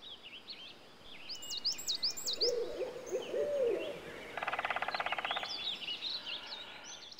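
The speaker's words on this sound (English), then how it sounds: "I hear birds." Birds calling in the off-road truck driving game Spintires, with hooting owl-like calls, higher chirps and a brief rapid trilling burst, moderately quiet over a soft ambient background, no talk.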